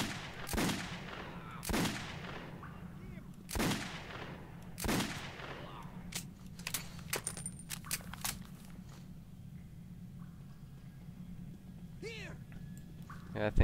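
Four loud gunshots crack one by one in Metro 2033, each with a short echoing tail. A spatter of fainter shots follows over a low steady hum, and there are odd squeaks near the end.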